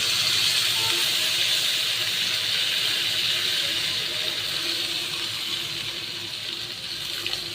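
Water poured into a pan of fried spiced potatoes and pointed gourd while cooking, giving a steady loud hissing sizzle and splash that fades slightly over several seconds, with no talking.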